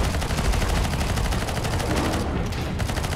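Rapid automatic gunfire from the video game CS:GO rattles in dense, loud bursts throughout, with a brief dip in the high crackle partway through.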